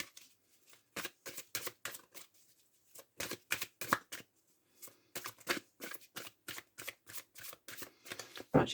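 Oracle cards being shuffled by hand for a nine-card reading, rapid bursts of riffling and slapping card sounds in quick repeated runs with short pauses between, close and crisp.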